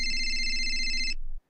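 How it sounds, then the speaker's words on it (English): A telephone rings with one steady electronic tone lasting just over a second, clear and fairly close, then stops abruptly and leaves silence. "we actually have audio of the phone call that Ron took on Friday morning"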